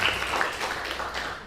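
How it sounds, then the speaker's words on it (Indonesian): Students in a classroom clap for their classmates, a brief dense burst of mixed applause that fades slightly toward the end, with no voices. "Ya, bagus, kasih aplaus dulu buat teman-teman."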